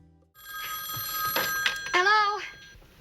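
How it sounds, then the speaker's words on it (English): A telephone rings in a scene from the sitcom Three's Company, sounding in short bursts close by and mixed with voices talking over it. "Janet, what took you so long to answer the phone?"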